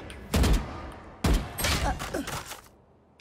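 Gunfire bursts in the tactical shooter game Valorant: two loud, close volleys roughly a second apart, followed by a trailing spray of shots and softer scattered clatter.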